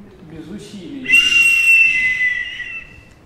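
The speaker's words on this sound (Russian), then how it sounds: "в моем детстве они назывались баскетбольные. В баскетболе судья такими свистел всегда." A flat basketball referee whistle gives one sustained, shrill blast lasting about a second and a half, loud and close, after a brief moment of a voice.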